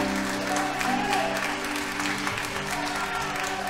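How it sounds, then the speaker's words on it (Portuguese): Church congregation claps together in a steady burst of applause, with a held organ or keyboard chord and scattered voices sounding underneath throughout. "Vamos aplaudir o Senhor."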